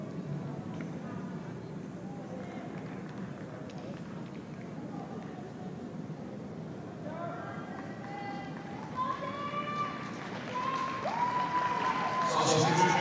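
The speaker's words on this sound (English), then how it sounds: "Round of applause for Justin Lupango, one of the goal scorers here." Crowd at a Philippines Football League match applauding a substituted goal scorer as he leaves the pitch: distant, diffuse clapping under a voice talking over the stadium, swelling louder near the end.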